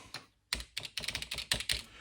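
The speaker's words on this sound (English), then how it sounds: "proper keyboard for the ZX81" Typing on a replacement keyboard for a ZX81 home computer: a quick run of close, crisp key clicks in an uneven rhythm, heard alone.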